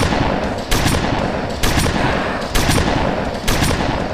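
Rapid automatic gunfire in the Roblox game Zombie Arena, loud and continuous with four sharp bursts roughly a second apart.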